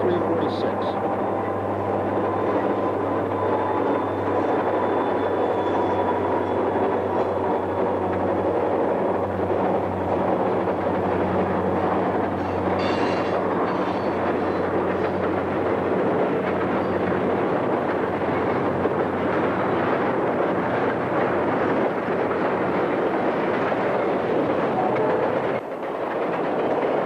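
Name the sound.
freight train hauled by SD50, SD40-2 and SD40 diesel locomotives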